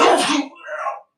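A single close sneeze bursts out loudly, then trails into a softer strained vocal sound for about a second before cutting off.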